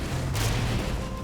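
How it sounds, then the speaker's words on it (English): A short, loud burst of blasting fire breath from Spyro in the Skylanders: Spyro's Adventure game, a single booming, explosive whoosh under a dense game soundscape. "Blow stuff up with my fire breath."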